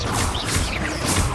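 Revelio spell cast in Hogwarts Legacy: a short, loud magical whoosh and shimmer that swells and settles over about a second, with no talk.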